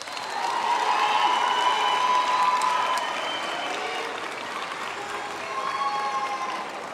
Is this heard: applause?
yes